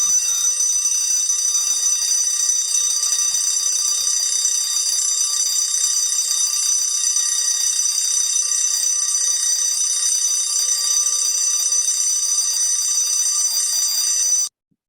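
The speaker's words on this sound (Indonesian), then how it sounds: "Ketika kita menghidupkan alarm, alarmnya panjang terus, ringing tone-nya." An emergency alarm at an oil and gas facility rings as one long unbroken high tone with a bright, piercing quality, loud and steady for about fourteen seconds, then cuts off abruptly.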